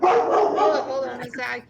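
A pet dog barks and yelps close by in a short, loud burst as a person speaks over it.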